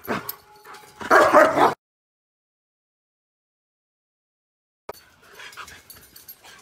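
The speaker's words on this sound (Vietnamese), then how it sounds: "Nghe một đàn chó là đã chưa." A pack of dogs barks and yelps in a burst at the start, close and loud, then a long silence before fainter barking and panting return.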